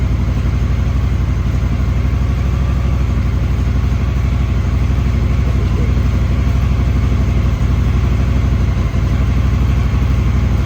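Honda Africa Twin DCT motorcycle idling in gear with a steady, loud low rumble that holds evenly throughout without revving, close to the bike.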